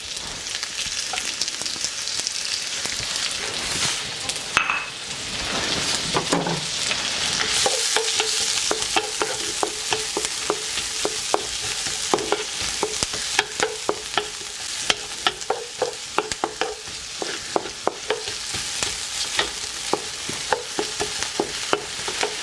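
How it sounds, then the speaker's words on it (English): Onions sizzle steadily in a hot pan, a continuous crackling hiss with repeated clicks and scrapes of stirring throughout, close and fairly loud. "a little bit of a sizzle there, so go ahead and throw those in"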